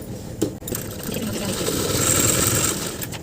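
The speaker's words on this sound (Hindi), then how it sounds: "अब हम इसकी सिलाई करेंगे साइड टू साइड से" A sewing machine stitches buckram into the hem of a kurta sleeve, running at a steady whirring pace after a brief start-up knock, fairly close and alone.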